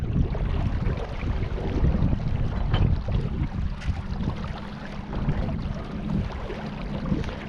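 Steady wind rushing across a microphone on a boat ride along the Colorado River about six miles from Hoover Dam, continuous and fairly loud with low rumbling gusts throughout and no talking.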